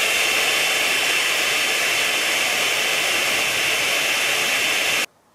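A heat gun blows steadily at close range for about five seconds while shrinking heat-shrink tubing over a wire joint, its broadband hiss staying loud and even before cutting off abruptly.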